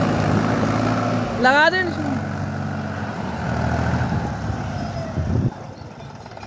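Mahindra 265 DI tractor engine running steadily with a low, even throb, with someone speaking over it partway through.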